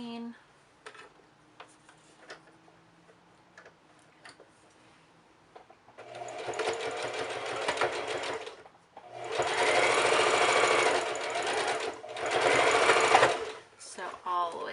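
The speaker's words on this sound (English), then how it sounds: "Again, put it under my machine." A sewing machine stitches an elastic channel along the side of a cloth mask in three loud, steady bursts, with quiet handling sounds and a voice talking before the stitching begins.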